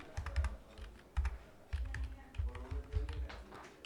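Rapid typing on a computer keyboard in bursts of close, crisp key clicks with short pauses between runs, no voices.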